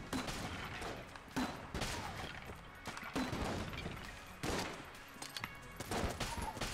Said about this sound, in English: Use this gun right now.